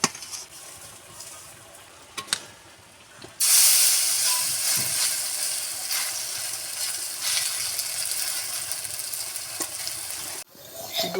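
Semolina breakfast snacks fry in a pan. After a few quiet seconds with faint clinks, a loud, steady hissing sizzle breaks out and keeps going until it stops abruptly near the end.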